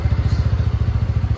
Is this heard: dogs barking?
no